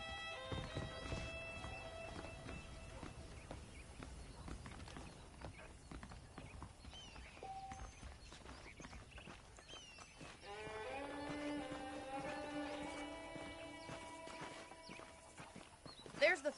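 Saddled horses clip-clop along at a walk in the Red Dead Redemption video game, with steady hoof beats at a moderate distance, a whinny, and people talking in the background.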